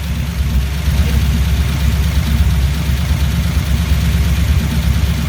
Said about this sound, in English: You gonna sit here and idle even?